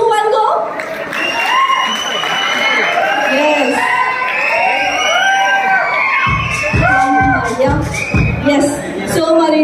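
A crowd at a movie teaser launch event in Nizamabad claps, cheers and whoops loudly and continuously, with children shouting and voices mixed in, and a burst of sharp clapping near the end.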